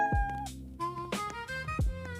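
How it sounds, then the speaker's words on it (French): A cat meows in the Roblox video game, giving a few rising and falling electronic-sounding meows spaced over about two seconds, close and clear over the game's tonal background music. "Adopter un chat, non merci."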